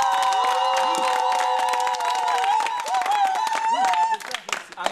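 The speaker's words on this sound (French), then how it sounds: "On va d'abord applaudir pour monsieur le ministre." Crowd applauding a minister, with clapping mixed into loud cheering, whoops and shrill ululating voices, a lively, close celebratory din that thins out near the end.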